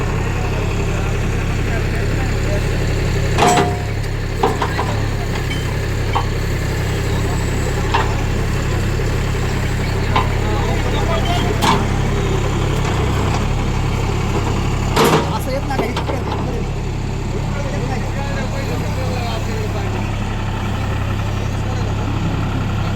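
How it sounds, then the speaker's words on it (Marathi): Tractor converted into a JCB-style backhoe, its diesel engine idling at an outdoor agricultural exhibition. A steady low rumble runs throughout with a few sharp clanks, under constant crowd chatter and nearby voices. "ट्रॅक्टरला आपल्या JC मध्ये कन्वर्ट केलेलं आहे शेतकरी मित्रांनो"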